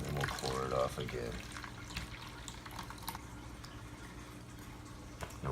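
Rinse water poured off sprouting seeds, a soft continuous trickle and splash running steadily for several seconds, near and moderately quiet, with a voice speaking briefly at the start.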